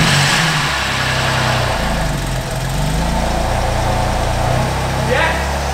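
A BMW M4 engine starts and settles into a steady, loud idle at close range, with a brief rise in revs near the end.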